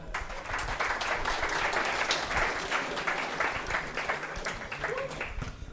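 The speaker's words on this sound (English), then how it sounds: "Please give a big round of applause to her." A steady wave of audience applause fills a FlutterNinjas conference hall for a speaker, dense, even clapping lasting several seconds, moderately distant, with faint voices underneath.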